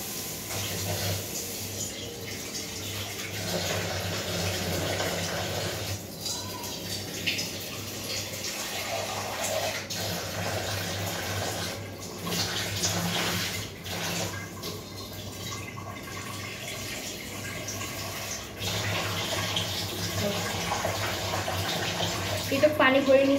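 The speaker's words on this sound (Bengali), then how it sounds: "এটা পানি ভরে নিচ্ছি।" Tap water runs steadily into a metal kadai in a home kitchen, a continuous splashing stream that shifts in tone over a low background hum.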